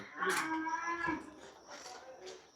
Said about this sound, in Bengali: খুব ভালো গরু